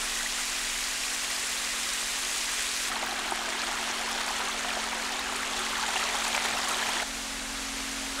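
A mountain valley stream on Ganghwa Island, South Korea, runs through dense forest past broad flat rocks, a constant rushing wash of water with a faint steady hum beneath it and no voices.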